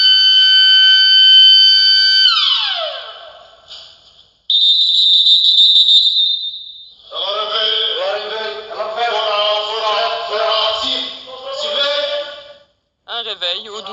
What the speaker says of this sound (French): Un réveil au doux son de la sirène et du sifflet.